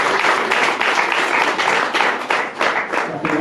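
Audience applause at a wedding celebration, a dense continuous wash of many hands clapping, steady and fairly loud throughout with slight swells.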